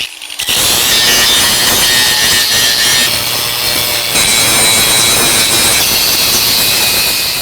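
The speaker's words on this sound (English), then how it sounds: "it's time to do some grinding" Loud, continuous power grinding on the steel frame of a Ford Fairmont Fox Body, a harsh broadband rasp starting abruptly and holding steady close to the microphone with no talking.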